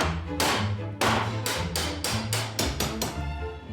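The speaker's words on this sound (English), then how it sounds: "But when in doubt, smash it with a hammer." Hammer repeatedly smashing 100-year-old rusty metal door hinges, about nine sharp, loud metallic strikes in quick, slightly uneven succession, close up.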